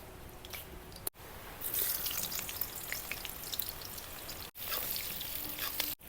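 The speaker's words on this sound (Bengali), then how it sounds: "কড়াইতে আর অল্প সরিষার তেল দিয়ে পেঁয়াজ কুচিটাও দিয়ে দিব।" Chopped onion fries in a little mustard oil in a wok with a faint, crackling sizzle and scattered popping drips, interrupted by a couple of short cuts.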